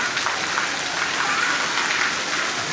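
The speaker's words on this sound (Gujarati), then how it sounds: "જોઈ લો વરસાદ ચાલુ થઈ ગયો." Heavy rain falls in Mehsana, a dense, steady hiss of downpour with a constant roar and no clear gaps, fairly close and loud throughout.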